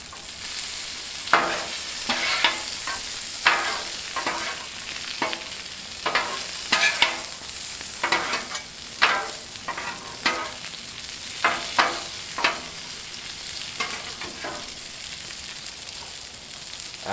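Garlic parmesan mushrooms sizzle steadily on a hot Blackstone griddle, with a spatula scraping and stirring in repeated, regular strokes that stand out close and clear over the constant frying hiss.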